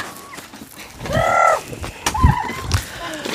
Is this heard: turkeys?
yes